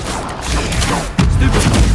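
Spell-casting effects from the video game Hogwarts Legacy crackle and whoosh in quick succession, with dense magical bursts and a heavier booming blast partway through, loud and busy.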